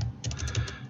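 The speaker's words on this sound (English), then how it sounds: "I'm going to type in my SSH password and go Axiom Connect" An SSH password typed on a computer keyboard: a brief run of quick, close keystroke clicks in an uneven rhythm over about a second.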